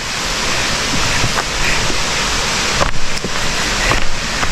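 A waterfall roars nearby on a steep mountain hiking trail, a loud continuous broadband rush of falling water with a few faint knocks and footsteps, no voices.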